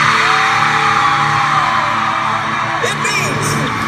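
Concert crowd at a show in Cincinnati, screaming and cheering loudly and continuously as one dense, sustained roar with shrill yells on top.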